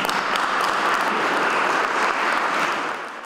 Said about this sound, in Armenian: Ամեն ինչ խլացնող ծափերը դադարեցին,